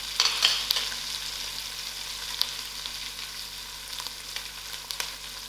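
Chili powder, garam masala, jeera and dhania powder fry in hot oil in a pot, making a faint, continuous crackling sizzle. A few sharp clicks sound near the start.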